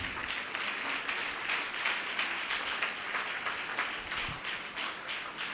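An audience claps together through a church Christmas service, the steady, fairly close crowd applause holding at an even level from start to finish with no talk over it.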